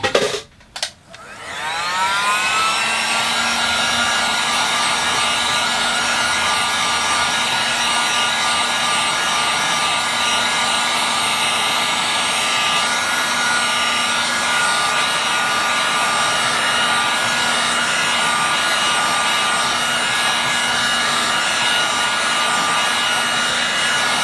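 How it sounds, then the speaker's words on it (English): Handheld blow dryer drying a watercolour glaze, clicking on and then blowing with a loud, steady, close whine and rushing air for over twenty seconds, with no talk. "I'll use a blow dryer."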